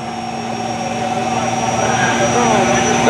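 A Chevrolet pulling truck at an 8000 open truck-pull event in Ridgeland roars loudly and steadily, a sustained high-pitched engine whine that builds in intensity, with an announcer talking over it.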